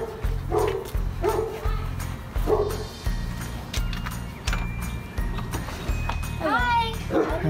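A puppy barks and yips in rapid, loud bursts over a steady low rhythmic thumping, with people talking nearby and a few high squeaky yelps toward the end.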